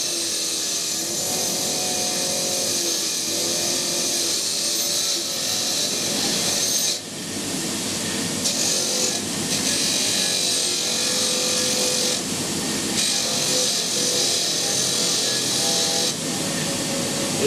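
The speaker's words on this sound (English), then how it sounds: "The wire wheel's ideal for cleaning things like this up before you weld them" A wire wheel scours a rusty, British-made adjustable spanner, giving a loud, continuous whirring rasp close by that briefly dips and surges as the metal is pressed against it.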